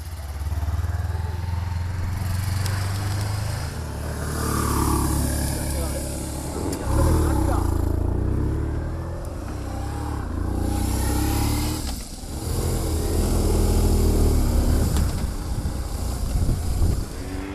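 A Suzuki beginner motorcycle with a 135 km/h top speed is ridden, its engine revving up and easing off in repeated swells with wind buffeting, heard under a speaking voice.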